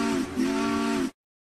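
A cartoon steam engine's whistle gives two loud, close, tonal blasts, a short one then a longer one, and cuts off abruptly into silence.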